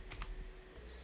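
Quick keystrokes on a computer keyboard while building a game in Unreal Engine 5: a short burst of light, close clicking taps with no speech.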